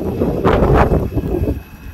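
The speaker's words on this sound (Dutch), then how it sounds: "Het waait, dames en heren." Gusty wind blowing outdoors outside a newly opened metro station at Hoek van Holland, a steady broadband rush with a stronger buffeting swell early on that eases toward the end, no voices present.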